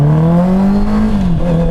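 Honda CBR650R E-Clutch motorcycle engine pulling in first gear, a loud, close engine note rising steadily in pitch, then dipping briefly as revs drop and settle.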